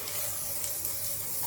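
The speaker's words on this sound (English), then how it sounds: "I will spray it on" SUNPLAY Skin Aqua Tone Up UV Mist sunscreen sprays in a continuous, close, airy hiss lasting about a second and a half, with no speech.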